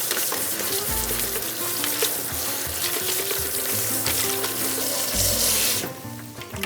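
Cold tap water runs steadily over green salad vegetables being rinsed in a kitchen sink, a continuous close hissing rush that swells louder near the end.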